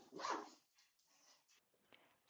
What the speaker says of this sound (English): Sorry if you could hear my dogs. They decided to wrestle right next to me while I'm doing a voiceover.